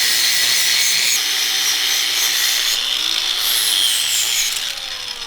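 An angle grinder fitted with a grinding wheel works a rounded metal tube on an offroad truck build, a loud continuous high-pitched grinding whine with shifting tone as pressure changes, tapering slightly at the end.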